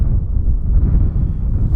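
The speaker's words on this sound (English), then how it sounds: "It's just a bit windy" Wind gusts buffet the microphone at a campsite, a steady low rumble filling the short stretch with no talk.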